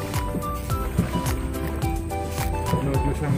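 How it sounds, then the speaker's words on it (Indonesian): Wooden rowboat paddled by hand on the open sea toward the Indian Ocean on a fishing trip, with steady water sloshing and gurgling against the hull and rhythmic low knocks from the paddles. "Ini perjalanan mancing menggunakan sampan dayung"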